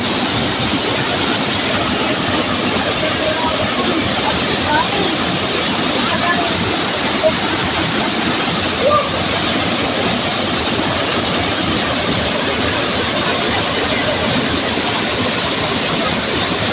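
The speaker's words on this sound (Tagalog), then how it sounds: "Grabe, kusog kayo tubig mga kataski." Banahaw Falls pours hard after a typhoon (Typhoon Opong), its rushing water forming a constant, loud, dense roar that never lets up, with faint voices buried in the noise.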